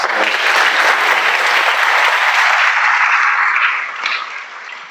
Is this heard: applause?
yes